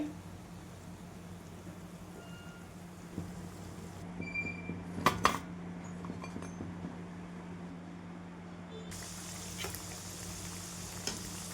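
Dhonde dough cakes frying in a pan, a steady low sizzle of hot oil running throughout with a few soft clinks of utensils partway through.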